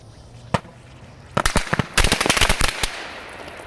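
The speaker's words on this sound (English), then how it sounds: "this is the last strip of firecrackers that I have" A strip of firecrackers goes off nearby, one pop and then a rapid crackling string of sharp bangs that fades to quiet.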